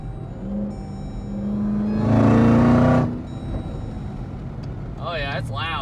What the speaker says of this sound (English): That's incredible how much those big pipes change the exhaust sound.